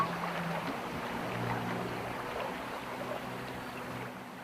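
A boat engine drones steadily while the boat pushes through fast-running water in Cape York, Queensland, and a broad rushing wash sits under the engine note for the whole stretch, with no talk.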